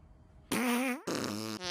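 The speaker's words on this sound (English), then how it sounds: "You're not going to edit in fart noises here?" A fart noise sound effect, edited in: two loud, drawn-out wet blasts with a falling pitch, close and isolated, with no talk over them.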